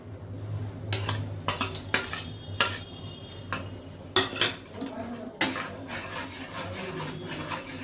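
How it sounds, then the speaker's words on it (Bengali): A utensil stirs white sauce with fried vegetables in a pan for pasta, making repeated scraping clinks and knocks against the metal in irregular bursts, close and moderately loud, with no talk. "তো এইভাবে একে নাড়াতে থাকবেন।"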